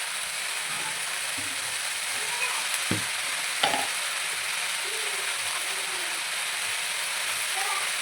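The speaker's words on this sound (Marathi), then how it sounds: "आता ह्याला हलवायचं" Fenugreek leaves with peanut powder, masoor dal and salt are stirred in a pan over a soft continuous sizzle, with a couple of sharp utensil scrapes and knocks against the pan partway through.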